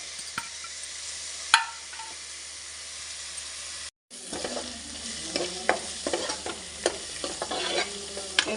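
Onions, green chilies and curry leaves fry in a pan with a steady hiss, and a spoon scrapes and stirs now and then, making close clinks and rattles over the sizzle.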